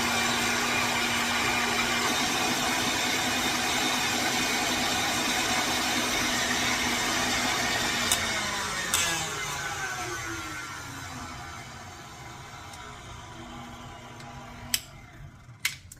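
A stand mixer whisks two egg whites on high speed, a steady loud motor whir with a whining tone that shifts in pitch and slowly fades, with a few sharp clicks near the end.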